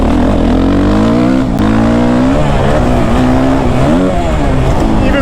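Suzuki RMZ 450 dirt bike engine running steadily and loud while riding on slick, dry ground, with a continuous buzzing drone whose pitch rises and falls as the throttle changes.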